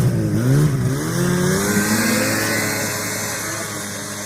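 A 1985 Yamaha Phazer snowmobile engine revs hard while being ridden over thin, muddy snow, a loud, close, buzzing two-stroke whine that rises in pitch and then holds steady.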